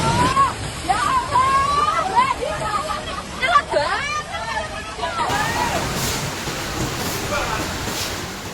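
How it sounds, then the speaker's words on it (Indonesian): Flooded river overflowing its banks in Tulungagung during heavy rain sends a steady, loud wash of rushing water, with crowd chatter and whistle-like tones over the first half before the torrent continues alone. "Sungai meluap, jalan utama ambrol dan akses terputus."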